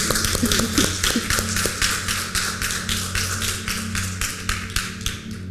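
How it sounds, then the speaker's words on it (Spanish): Church congregation applauding, a rapid rhythmic run of sharp claps in steady pulse, close and loud, over a low humming background. "vamos a dar un fuerte aplauso al Señor"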